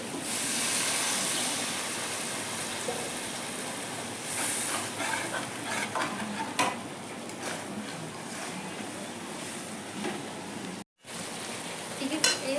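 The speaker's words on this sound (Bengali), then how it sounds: "আলু মশলা ভালো করে কষানো হয়ে গেছে এখন আমি দিয়ে দিচ্ছি জল দিয়ে দিচ্ছি" Potato and spice masala sizzles in a pan as water is poured in, a steady hissing fry with scraping stir strokes, close and moderately loud.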